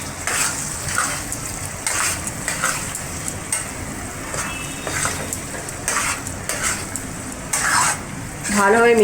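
Yogurt being stirred into chicken bhuna masala in a pan, with repeated scraping strokes of a utensil against the pan over a soft sizzle, close and rhythmic, louder toward the end.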